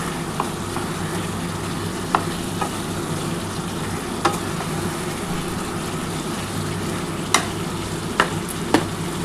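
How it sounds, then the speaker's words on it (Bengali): Spice masala frying in a small amount of oil in a pan, a constant close sizzle broken by occasional sharp spatula scrapes, with a low steady hum underneath and no talking. "এই মশলাটা খুব ভালোভাবে আগে কষিয়ে নেবো বন্ধুরা।"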